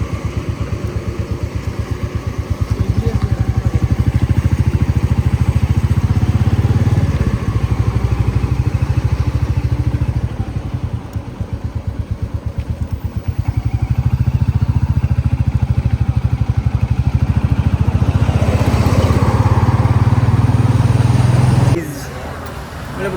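A motorcycle ridden along a road for about 20 kilometres, its engine droning steadily and loud throughout with wind rush, dipping briefly mid-ride and dropping away near the end.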